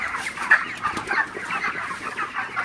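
Broiler chickens clucking steadily in a dense, close chorus of overlapping calls, with no talk.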